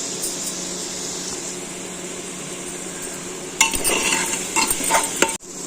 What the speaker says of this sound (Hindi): तो अच्छे से इसको फ्राई कर लेंगे।